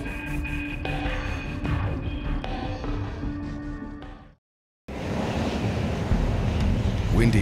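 Strong wind buffets the microphone on a Wellington waterfront, a loud steady roar with surf-like rumble that cuts out briefly for a moment of silence before blowing on just as hard.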